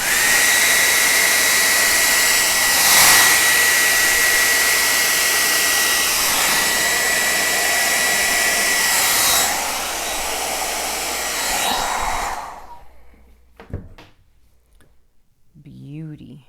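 A hair dryer blows loudly and steadily across wet acrylic pour paint for about twelve seconds, then cuts off, leaving brief faint handling noises.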